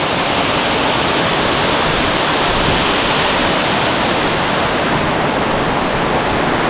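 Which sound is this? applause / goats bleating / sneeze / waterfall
waterfall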